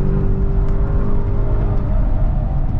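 An Audi RS car accelerates on the Fuji Speedway circuit, its engine a steady, loud, close droning hum with a faint whine held throughout, as from inside the cabin.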